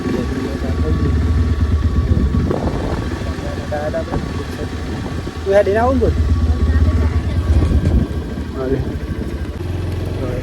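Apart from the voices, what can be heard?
motorcycle engine started and running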